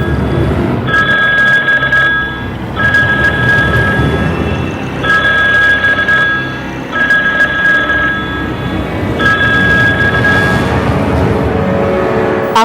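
A telephone rings with an incoming call in repeated bursts of bright electronic tone separated by short gaps, over a steady background rumble of traffic or train noise; no one speaks.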